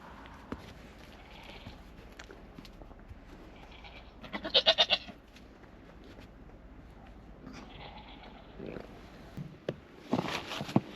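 Farm goats bleat while being given water during winter chores between snowstorms. A loud, wavering burst of bleats comes mid-way and another near the end, with softer rustling and movement in between.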